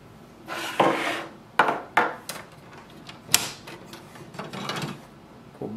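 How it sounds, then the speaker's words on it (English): An ink cartridge is removed from a Canon Pixma TS3460 printer: a series of close plastic clicks, snaps and rattles as the lock is pressed and the cartridge slides out, with quiet gaps between. "and take the ink cartridge out"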